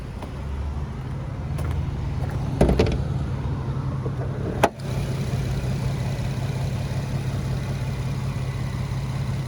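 A 2008 Infiniti G35X with a 3.5-litre non-direct-injection engine idles steadily with a low, even hum, interrupted by a few clicks and a brief sharp knock partway through.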